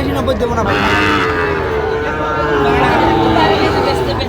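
Shahiwal cattle low loudly and close by amid the constant hubbub of a talking crowd at a cattle market in Dhaka.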